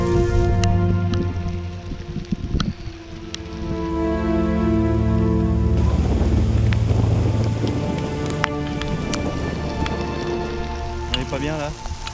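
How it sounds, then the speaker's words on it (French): Heavy rain pours steadily during a thunderstorm, a dense, continuous wash of drops on surfaces close by, with a voice speaking intermittently over it. "Il commence à pleuvoir."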